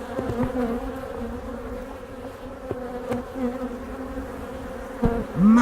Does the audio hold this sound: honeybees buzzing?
yes